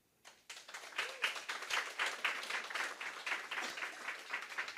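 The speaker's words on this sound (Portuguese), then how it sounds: "Queria pedir uma salva de palmas" A modest audience at a course session breaks into applause after brief silence, scattered close claps building quickly into a steady round of clapping that continues to the end.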